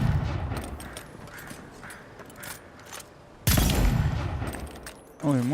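Gunfire in the fantasy role-playing game Avowed: repeated sharp shots crack through the scene, with a heavy, loud burst partway through, followed by more firing.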